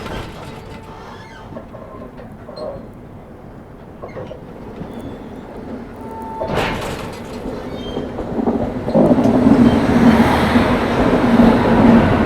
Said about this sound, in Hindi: क्योंकि उस ओर से कोई ट्रेन आ रही है